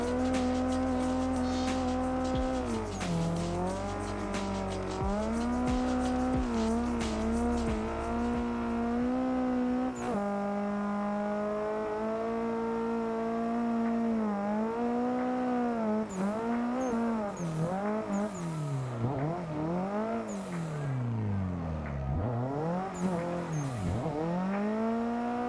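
Simulated car drifting around a track in the Assetto Corsa racing game, with a loud, continuous engine that rises and falls sharply through repeated revs and gear changes, plus tire squeal, with no talking throughout.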